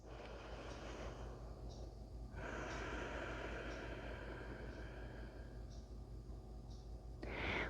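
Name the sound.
deep relaxing breaths after yoga practice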